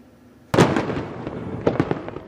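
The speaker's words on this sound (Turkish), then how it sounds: "Amerika'da bağımsızlık günü kutlamaları havai fişekler olmadan düşünülemez." Fireworks at an Independence Day celebration in America burst in a loud opening crack, followed by a rapid string of crackling pops and bangs that continue densely to the end.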